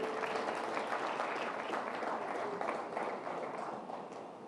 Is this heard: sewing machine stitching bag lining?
no